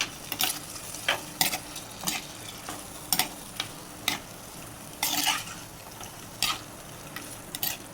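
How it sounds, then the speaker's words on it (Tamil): Chicken meat being stirred and fried in a pan with softened tomatoes for pepper chicken gravy, with repeated sharp scraping stirs over a faint sizzle, close by and without speech. "இப்போ அது கூட கறி சேர்த்துக்கலாங்க"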